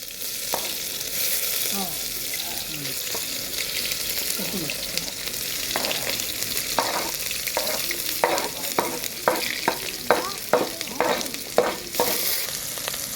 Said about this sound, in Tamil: 4 தக்காளி, 2 மிளகாய், லவங்கம் வந்து ஒரு 4, பட்டை, வெங்காயம் போட்டு நல்லா சேர்த்து நல்லா வதக்கலாம்.